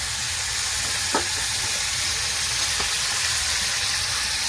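Turmeric, salt, coriander powder and black pepper sizzle in hot oil, sautéed for an Indian-style chicken soup: a steady close hiss of frying with a couple of faint scrape-like ticks from stirring.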